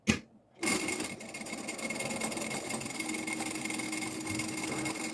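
A sewing machine runs steadily after a brief pause, stitching a seam along a marked line on a preschool backpack with a front pouch, a continuous close whir with no talking.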